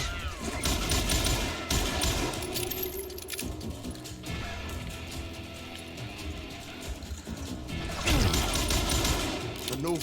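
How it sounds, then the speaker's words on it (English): Gunfire in a Wild West shooter game, Call of Juarez: Gunslinger, with a fight against an outlaw wielding a double-barrel shotgun: bursts of shots and clattering impacts scattered through a busy mix of game sounds and background music. "Robert Ollinger appeared with his terrible double-barrel shotgun."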